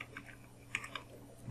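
Light keyboard typing, a few soft irregular key clicks at low level over a faint steady hum, entering a short phrase; no voices.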